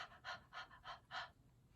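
A person breathes out in short panting bursts during a clinical breathing exercise, five quick, evenly spaced puffs of breath, close and alone with no talk.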